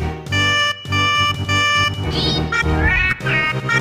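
Cat meowing, several loud drawn-out meows in succession close up, with a musical backing underneath.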